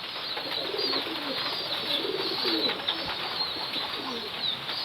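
Pet pigeons coo in a repeated, rolling pattern, fairly close, over a constant hiss of background noise, with the cooing continuing throughout.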